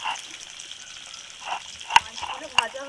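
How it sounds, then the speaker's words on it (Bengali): Pieces of fish fry lightly in a pan for a rezala, giving a soft, steady sizzle with a couple of sharp spatters and clinks close by. "মাছগুলো ভাজা হয়ে গেছে, এবার তুলে নেব।"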